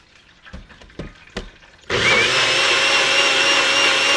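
A few soft knocks and clunks lead into a kitchen blender starting up with a loud, steady whir as it blends cherry sangria sauce for chicken wings, running continuously close up.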